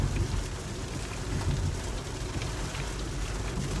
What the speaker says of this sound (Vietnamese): Mưa tầm tã nè, thấy không?